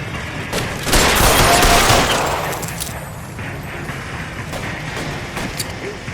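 Gunfire in L.A. Noire: a loud burst of shots cracks out early, followed by a fading rush of noise and a few scattered further reports.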